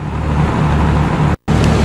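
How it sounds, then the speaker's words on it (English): A road vehicle rumbles close by in traffic in Yugoslavia, a steady loud engine-and-tyre noise with a brief cut of silence near the end. "This is a little red Yugo car."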